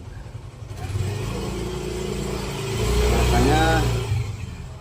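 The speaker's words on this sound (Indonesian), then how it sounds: "ada motor lewat ya." A motorbike engine rises and passes close by, its drone swelling toward the end, with a person speaking over it.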